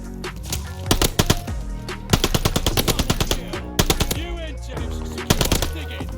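Rapid automatic gunfire from Call of Duty Vanguard, loud and close, coming in several sharp bursts separated by brief pauses, with a few single shots mixed in.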